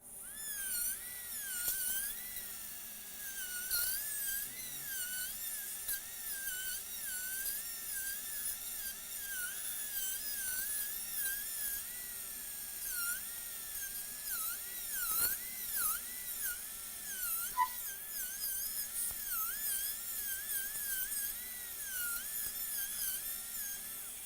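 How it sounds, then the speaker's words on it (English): A dental drill fitted with a tapered diamond access burr with a safe-ended tip whines continuously at high pitch, the tone wavering up and down as load changes, fairly quiet and close. "I'm going to use the LA access burr, tapered diamond burr with a safe ended tip"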